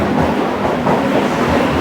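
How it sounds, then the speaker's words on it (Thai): BTS Skytrain running at Saphan Taksin station in Bangkok, a loud, steady rumbling roar of the train moving along the elevated track, close and continuous with no talk. "รถไฟฟ้าก็แลนออกไปแล้วครับ"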